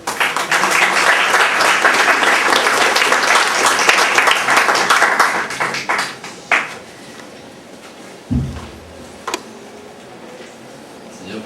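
Loud applause from an audience at a university book presentation fills the room for about six seconds, then fades to scattered claps, a few knocks and quiet.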